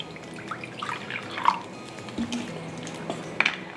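Seltzer poured into a matzah ball mixture, a quiet liquid trickle with scattered drips and small fizzing splashes, close and faint, without talking.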